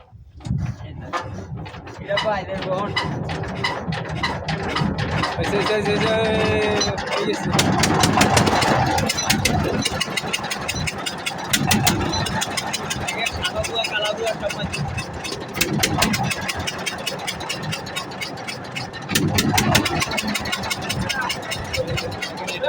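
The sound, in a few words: ship engine being started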